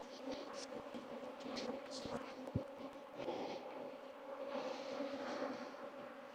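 An angry swarm of bees buzzes around a person mowing on a property, with droning hums rising and falling close by and a few sharp knocks.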